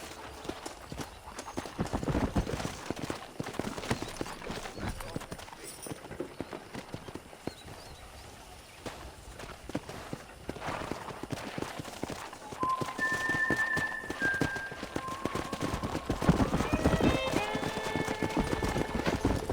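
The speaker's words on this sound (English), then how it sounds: "Let's see if we can't wrangle some horses." Horse hooves clip-clop steadily through a busy outdoor scene in the video game Red Dead Redemption, with occasional whinnies and a lively background, sustained throughout.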